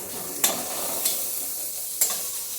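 Spices fry together in a pan with a steady close sizzle, punctuated by three sharp metallic scrapes of a stirring spoon spaced unevenly through the short stretch.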